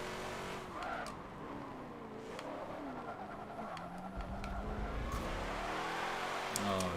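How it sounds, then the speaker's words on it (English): Race car spinning out with skidding, squealing tires in the racing video game Forza 7 during an A-class race, engine whine rising and falling over a continuous loud skid, with a voice talking over it. "Oh, Monty goes for a little spin."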